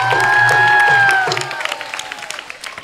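A crowd applauds at a university Holi celebration in Haridwar, India. A sustained tone is heard first, then scattered clapping and crowd noise continue at a moderate level with voices mixed in.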